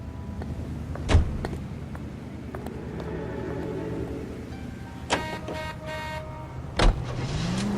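A car in the video game L.A. Noire, its engine a low steady hum under street ambience, with several sharp clunks and bangs spaced a few seconds apart and a short honk-like tone near the end.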